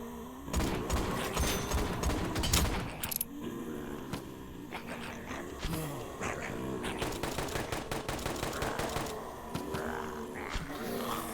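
Rapid bursts of game gunfire from a VRChat shooting game, with clustered rattling shots and repeated volleys running almost nonstop, fairly close and busy.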